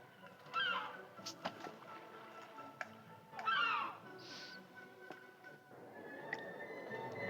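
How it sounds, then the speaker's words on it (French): Parrot in a pirate-themed video game giving two loud squawking honks a few seconds apart, amid quieter game sound effects and clicks. "j'ai un perroquet"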